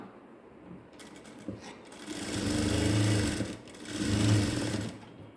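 A sewing machine stitches a tuck on a pair of ladies' straight trousers, starting with a soft low hum, then running up into two louder, sustained bursts of steady mechanical whirring close by.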